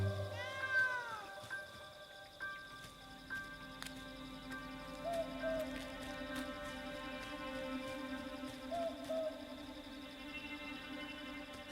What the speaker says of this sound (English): Feral cats kill countless possums